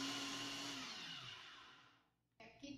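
A blender whirs loudly through carrot cream with kefir yogurt, then its motor winds down and fades before a short clatter of the appliance, with no talking.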